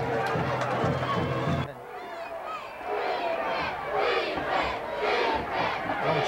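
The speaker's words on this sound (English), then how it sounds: "Crowd calling for defense as the officials change footballs" Crowd at a 1988 Hart County at Winder-Barrow high school football game chants for defense in loud, rhythmic surges. Other spectators' voices mingle with the chant.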